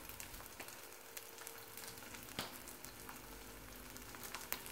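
A two-ingredient bread-substitute snack frying and browning in a pan makes a soft, steady sizzle with scattered small pops and crackles, close but quiet, with no talk.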